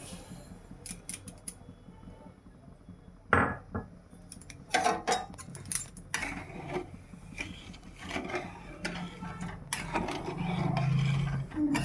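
Sugar being mixed into orange juice in a bowl set in a pan for candy, with repeated clinks and scrapes of a utensil against the dish, some sharper knocks, and a steady background hum.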